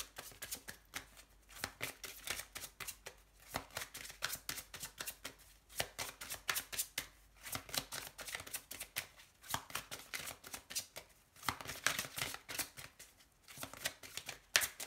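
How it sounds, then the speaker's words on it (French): Tarot cards are shuffled in quiet, rapid riffling bursts that repeat with short pauses between them, with no voices. "Je vais tirer une carte pour votre autre et pour vous"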